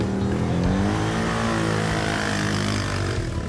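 A Polaris side-by-side off-road vehicle accelerating, its engine droning steadily and loudly with rising harmonic tones, close by and without talk.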